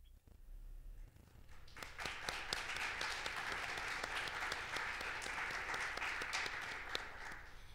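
An audience applauds in a hall at a heritage month event, clapping building after a second into a dense, sustained round that stays even and fairly distant before easing slightly at the end.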